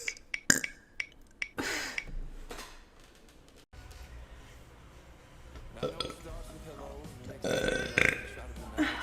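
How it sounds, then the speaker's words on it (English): A girl burps repeatedly right after dinner, loud close eructations in irregular bursts, some short and popping, others longer and drawn out, with quieter pauses and a little clinking between them. "so many burps"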